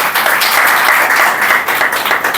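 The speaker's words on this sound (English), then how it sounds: "A big round of applause for everybody, because we won't be able to just clap during the performance." A roomful of people at a pronunciation training class gives a brisk round of applause, a continuous close patter of many hands clapping at once for a couple of seconds.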